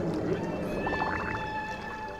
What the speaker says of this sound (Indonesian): Ikan paus Australia nih, guys.